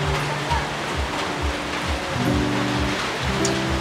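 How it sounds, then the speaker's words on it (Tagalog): Heavy rain pours steadily in a dense, unbroken roar, with a voice talking faintly in Tagalog underneath. "Ay, grabe ang ulan."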